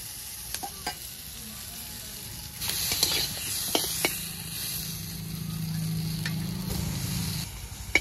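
Fish and broad beans with lentil dumplings being stirred in a frying pan, a steady sizzle with scraping clacks of the spatula, louder and busier midway, no talking.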